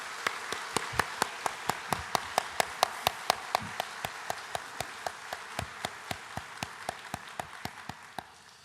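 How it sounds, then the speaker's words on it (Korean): A church congregation at a Sunday afternoon service claps in unison, a steady rhythmic beat of about three claps per second held for several seconds at moderate volume, without voices. "청년들을 위해서 박수 한번 보내줍시다."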